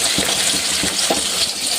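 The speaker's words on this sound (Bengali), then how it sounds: "টমেটো দিয়ে আর একটু কষিয়ে নেব, যাতে টমেটোর কাঁচা গন্ধটা চলে যায়।" Tomatoes dropped into hot frying masala for a rohu fish curry, with steady sizzling throughout and a few soft clinks and stirring scrapes from the pan, close and fairly loud.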